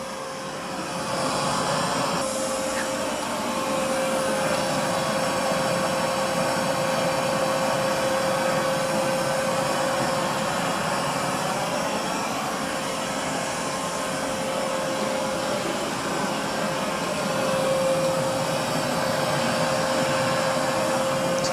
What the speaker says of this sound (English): It's doing a pretty good job vacuuming.